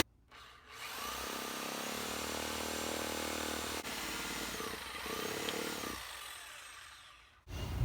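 A reciprocating saw cuts through a wooden deck post for a bench, its steady buzzing roar running loud and close for about six seconds before stopping abruptly.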